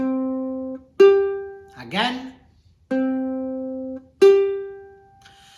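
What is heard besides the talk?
ukulele playing a perfect fifth interval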